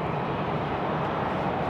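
Jet airliner taking off at Haneda Airport, heard as a steady, broad rumbling roar at moderate distance without pause.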